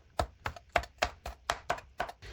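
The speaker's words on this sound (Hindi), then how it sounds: "मैंने प्याज लिया है, इसकी कटिंग कर लेंगे" A knife chops through onion on a cutting board while prepping a Dubai-style paratha burger, giving eight crisp, evenly spaced strokes about a third of a second apart, close and clear with no talking.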